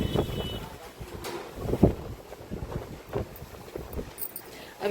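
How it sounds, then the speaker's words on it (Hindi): Strong stormy wind gusting through a street of shuttered shops, rough buffeting noise with irregular gusts and microphone wind rumble, fairly faint. "देखो पूरी हवा चल रही, पूरी आवाज़ भी आ रही होगी आपको हवा की।"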